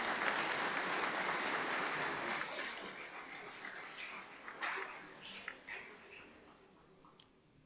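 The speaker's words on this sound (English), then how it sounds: "Sister Dolly, give a big round of applause." At a college graduation ceremony, a crowd's applause starts full and gradually thins out into scattered individual claps before fading, with a faint steady tone lingering behind.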